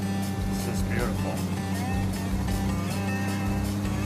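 A classic car cruises along a country road in Tennessee, its engine a steady, close rumble, with voices talking over the drive.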